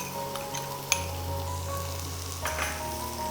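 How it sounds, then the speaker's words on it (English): Chopped onions fry in a tablespoon of hot oil in a pan, a steady close sizzle with a sharp click partway through and light stirring noises, no voices. "so I am going to add in our chopped onions."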